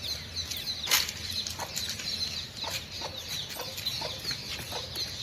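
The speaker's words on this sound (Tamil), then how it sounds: "குட்டி கோழி மேலேசு." Small baby chicks cluck and peep in short, scattered calls at close range, with a rustle or wing flap early on and soft farmyard background noise.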